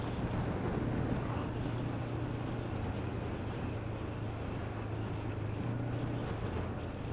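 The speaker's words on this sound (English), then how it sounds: "Quite windy on this flatland." Steady wind buffets the microphone across open flatland near a wind farm at Camber, a continuous roaring rush with low rumble, loud and unbroken throughout, no voices.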